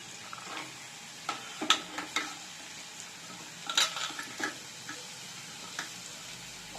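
Onion and vegetables sauté in a pan with a low, quiet sizzle, while a utensil stirs them in intermittent scrapes and sharp clinks against the metal.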